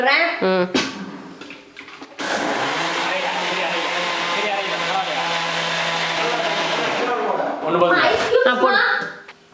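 Mixer grinder whirring as it blends muskmelon juice in a jar, a loud sustained motor drone for about five seconds, with people talking before and after it runs.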